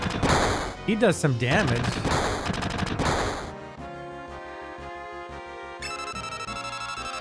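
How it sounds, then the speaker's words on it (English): Rapid machine-gun fire during a submarine battle in Final Fantasy 7, a steady run of pulses over game music and tones, following a stretch where someone talks over the action. "there's a machine gun."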